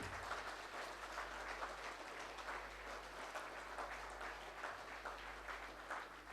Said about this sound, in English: Can you all give a big round of applause for today's evening?